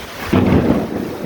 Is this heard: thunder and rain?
yes